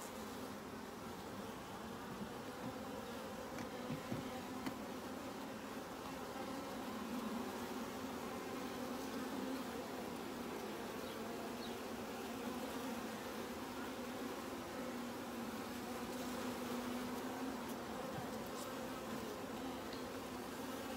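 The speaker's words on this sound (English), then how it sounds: "Lots of bees here." Honey bees in a top bar hive during a midsummer inspection, a steady dense buzzing hum of many insects filling the air close by, continuous with no talk.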